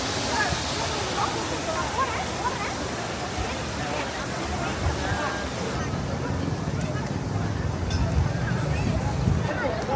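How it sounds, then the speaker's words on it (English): A waterfall across the way at a man-made lake in Kuala Lumpur, about 100 yards off, gives a steady broadband rush with a faint background murmur of voices and wind throughout. "There's a sweet waterfall over there across the way."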